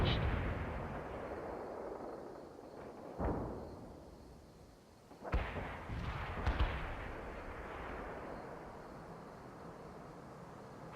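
Artillery and gunfire in the video game World in Conflict: a heavy boom at the start, then a few sharp blasts and bursts rising out of a low rumbling battle background.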